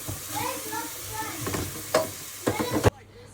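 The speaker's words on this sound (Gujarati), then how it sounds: "ડુંગળી શેકા છે." Onions sizzle and fry in a pan on a home stove as a vegetable dish is cooked, a steady crackling hiss with stirring scrapes near the end, close up, with faint voices around.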